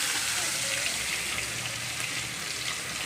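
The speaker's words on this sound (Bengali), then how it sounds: "এখন মাছগুলো ভেজে নেব কড়াটা গরম হয়ে গেছে" Fish frying in oil in a hot pan gives off a continuous loud sizzle and crackle that stays steady throughout, with no pauses.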